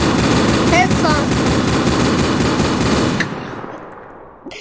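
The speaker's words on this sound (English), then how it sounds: "I'm shooting him down." Gunfire in a Roblox video game, a dense, continuous rattle of rapid automatic shots that runs loud for about three seconds and then cuts off, with a few faint synthetic tones over it.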